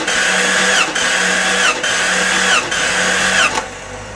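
A 1989 Jeep Cherokee engine cranks over on the starter during a wet compression test on cylinder 6, producing a loud, even rhythmic chug with four regular compression pulses before it stops.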